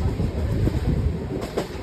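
Ashram Express passenger train running on rails between Delhi and Bandikui, a loud, continuous rumble with rhythmic wheel clatter heard from close by, without any talking.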